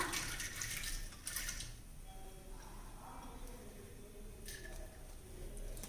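About a quarter litre of water pours and splashes into a pan of ragi flour close by, a steady gushing stream lasting several seconds.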